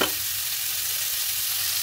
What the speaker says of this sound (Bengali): এবারে 1 মিনিট মতন একটু ভাজা ভাজা মতন করে নিচ্ছি